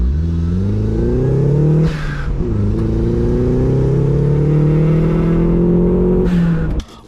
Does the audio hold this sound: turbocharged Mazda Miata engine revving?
yes